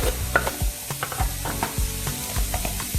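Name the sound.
mashing shrimp mofongo with garlic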